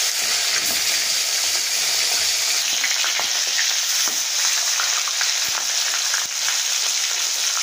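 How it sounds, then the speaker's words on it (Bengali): Fish fries in very hot oil in a wok with a loud, unbroken hiss and crackle. Occasional sharper pops and spits rise above it, close up and without talk. "এবার আমি কড়াতে মাছগুলো একে একে দিয়ে দেবো"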